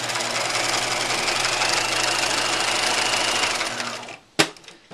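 A sewing machine stitching a pajama pant leg runs at a steady, fast, loud whir for about four seconds, then slows and stops, followed by a sharp mechanical click.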